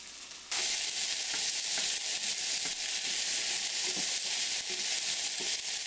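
Pork chops searing in a very hot pan give a loud, dense, continuous sizzle that bursts in abruptly and holds steady at close range, with faint crackles and no voices.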